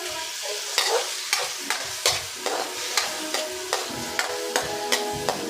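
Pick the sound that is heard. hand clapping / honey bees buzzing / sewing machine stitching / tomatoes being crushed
tomatoes being crushed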